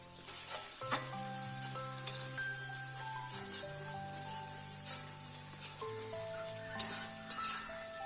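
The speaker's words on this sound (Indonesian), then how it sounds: "Tumis bumbu yang sudah kita haluskan." Ground spice paste sautés in a pan for a stir-fried papaya side dish, giving a steady, close sizzle throughout, with soft tonal music playing over it.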